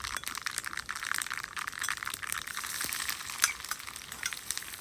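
Chopped ginger and garlic frying in coconut oil for pickle, a dense crackling sizzle that holds steady throughout, close and unbroken, without speech.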